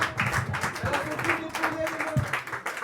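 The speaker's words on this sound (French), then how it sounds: "On applaudit très très fort Sophia" Audience applause at a slam poetry tournament in Antibes, a soft, dense patter of many hands clapping continuously at moderate distance, with some voices mixed in.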